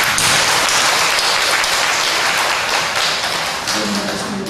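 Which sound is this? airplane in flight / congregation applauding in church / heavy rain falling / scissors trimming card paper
congregation applauding in church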